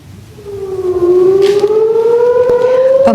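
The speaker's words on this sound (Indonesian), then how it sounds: "warga Israel ketakutan saat sirine meraung di udara" An air raid siren wails loudly during an air attack on Israel, its tone rising steadily and holding high, sounding close and uninterrupted with no voices.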